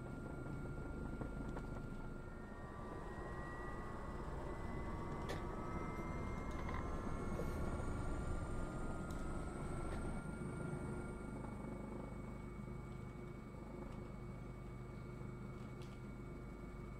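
Military helicopter flying in the tactical shooter game Squad, a steady loud rotor and turbine drone with a whining engine tone that shifts slowly in pitch, continuous throughout with no talking.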